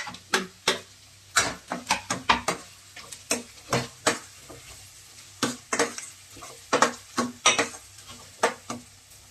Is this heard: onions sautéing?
yes